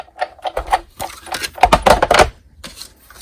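A paper shape cut with a die in a die-cutting machine, a short run of crunching, clattering mechanical clicks and grinding over about three seconds, close and fairly loud, with no speech.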